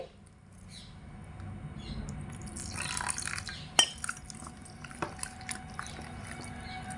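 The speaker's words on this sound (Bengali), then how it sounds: "তো আমি এখানে আবারও একটু জল অ্যাড করে দিচ্ছি" Water poured into thick gram flour batter in a bowl for raw banana chop trickles and splashes softly, followed by faint clinks and taps of a utensil against the bowl.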